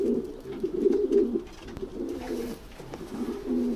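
Pigeons coo in soft, repeated throaty calls, close by, one after another with brief pauses, no talking.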